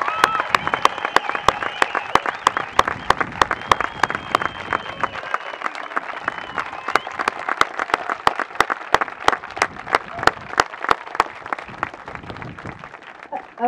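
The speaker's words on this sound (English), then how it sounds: "I'd like for you to give her a round of applause because she's special." Audience clapping steadily for a wildlife refuge manager at an outdoor announcement event, continuous crisp applause with sharp individual claps close by, a few voices murmuring underneath.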